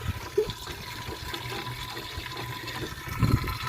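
Water being filled into clay pots at a water source in Cholistan, a gurgling, splashing flow that runs steadily with a few louder sloshes near the start and end.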